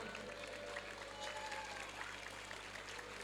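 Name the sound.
applause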